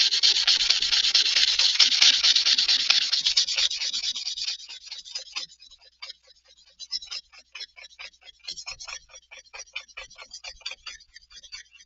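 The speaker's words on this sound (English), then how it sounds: "you're just letting the sandpaper do the work." Guitar wood being hand-sanded with 600 grit sandpaper, a steady close rubbing swish that fades after a few seconds into lighter, separate strokes.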